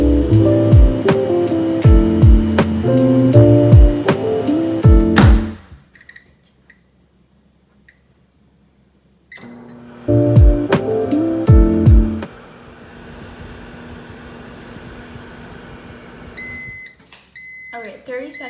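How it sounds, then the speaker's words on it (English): A microwave oven heats a viral TikTok recipe for about a minute. It gives a low, steady hum and ends with a few high beeps. Loud music plays in bursts before the hum. "now I'm gonna microwave this for, I'm gonna try 1 minute, see if it works"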